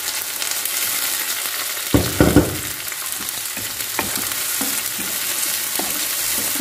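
Tomato stirred into onions and garlic frying in a pan for a prawn and pork sauté, with a constant soft sizzle broken by a loud clatter of stirring near the start and a few lighter scrapes after, close and without speech.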